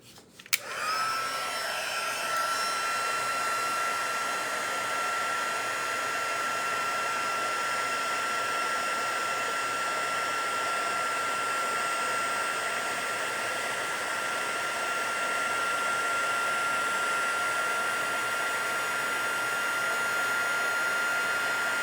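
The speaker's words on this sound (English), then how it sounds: "grab the white embossing powder, close that before we get our" A heat tool melting white embossing powder for stamping, a steady loud electric blower whine that clicks on and runs unbroken for over twenty seconds at close range, with no talk.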